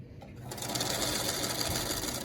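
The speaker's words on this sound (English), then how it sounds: "this last piece I'm going to sew. Again, I'm just going to enter in anywhere and just sew to the line." A sewing machine runs steadily, stitching a quilt block piece for a prairie meadow quilt, with a brief quieter start before the motor hum and needle chatter settle into continuous sewing.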